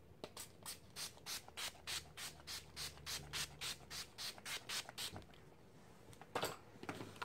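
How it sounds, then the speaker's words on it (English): A rapid series of about fifteen short bursts of Wet n Wild Photo Focus setting spray onto a face in an even rhythm, close and soft, followed by a couple of scattered sprays after a pause. "I'm gonna spray my whole face with my Wet n Wild Photo Focus Setting Spray."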